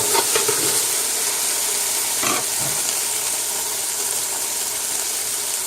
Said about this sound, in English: Looking for sizzle, throwing about 4 cloves of garlic right into there.